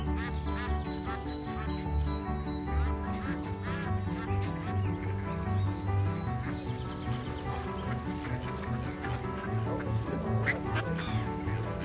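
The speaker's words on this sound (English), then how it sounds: "that's enough of the ducks" A crowd of ducks quacks continuously nearby, overlapping nasal calls in a busy, chattering chorus that never lets up.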